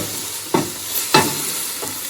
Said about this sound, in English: Gotta stir.